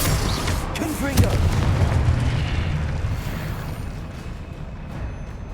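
Confringo spell explosion in the video game Hogwarts Legacy: a loud booming blast around the one-second mark that rumbles and slowly decays, with a spoken spell call and ongoing game ambience.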